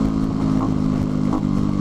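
Sinnis Hoodlum motorcycle on its stock exhaust, a steady low idle rumble with a slight uneven clatter, close and continuous, no talk.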